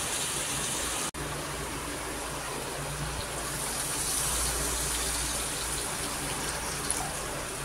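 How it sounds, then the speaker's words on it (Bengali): Water is poured into a pan of frying spices and potatoes, making a loud, continuous gushing hiss close by, with a brief cut near the start. "এখন এটা আমি জল দিয়ে দেবো"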